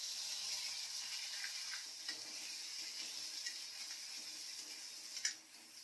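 Ground onion paste fries in a pan for a prawn (jhinga) masala, giving a soft, steady hiss and sizzle with faint ticks and a brief clatter of stirring near the end.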